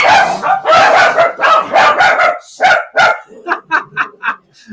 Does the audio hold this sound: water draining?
no